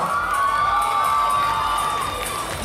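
A crowd at a Solo Disco Dance awards ceremony for 13-year-olds cheers and applauds the silver medalist, a dense, steady roar of voices and claps that holds at an even level throughout.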